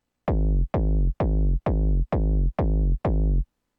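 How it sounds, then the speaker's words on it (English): Seven evenly spaced techno kick drum hits in the 909 style, each with a punchy attack and a downward-swooping rumble tail pitched down a few semitones, lightly overdriven and saturated, loud and alone. "Pretty standard, sounds pretty much like a 919 kick."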